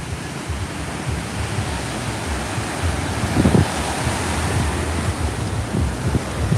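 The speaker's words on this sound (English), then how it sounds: "Those are just the waves." Ocean waves wash steadily off a Brooklyn shore near a swim buoy, a broad continuous surf roar with wind noise, one slightly louder swell breaking midway.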